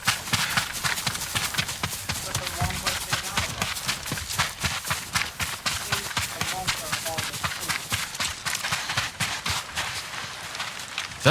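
Horse hooves clip-clop in a rapid, steady galloping rhythm in the video game Ghost of Tsushima, dense and continuous throughout with a busy game soundscape behind.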